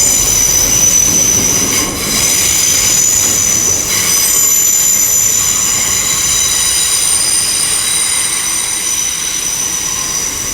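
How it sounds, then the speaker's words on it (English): A Heathrow Express train from Terminal 5 rolls into London Paddington, its wheels squealing loudly and steadily over a continuous rumble that stays strong throughout. "as this Heathrow Express comes in from Heathrow Terminal 5"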